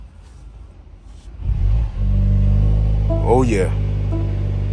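A 2024 Mercedes-AMG GLC43 compact SUV starts up: a starter whir and a loud engine catch, then a sharp rev rising and falling before settling into a steady, deep idle, with a brief exclamation from a man.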